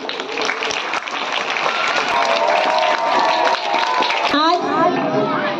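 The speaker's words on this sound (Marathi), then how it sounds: "कालच्या विजेत्या मुलांसाठी पुन्हा एकदा टाळ्या वाजवा" Children clap and chatter at a school's annual sports festival, the applause mixing with crowd noise while a voice speaks over the lively outdoor bustle.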